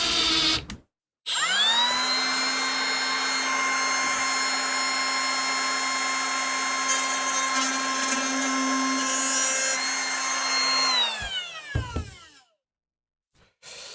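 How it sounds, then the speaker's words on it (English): A power router whines at a steady high pitch as it cuts a hole into wood for about ten seconds, then spins down and stops. "do a larger hole with the router rather than with the drill"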